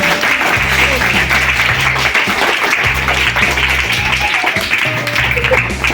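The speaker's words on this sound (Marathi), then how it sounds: "शेळके मावशीसाठी टाळ्या वाजवा सगळ्यांनी एकदा" Schoolchildren at Gautam Public School clapping together for a staff member, steady dense applause throughout with a voice and low tonal sounds running underneath.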